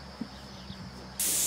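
A spray gun hisses on as paint is applied to a dump trailer frame, a sudden steady loud spray starting near the end after a few faint knocks in a quiet outdoor setting.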